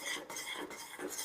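A kesari peda mixture with ghee is stirred in a pan, making steady scraping and clinking of a spoon against metal, close and fairly quiet, with no talking.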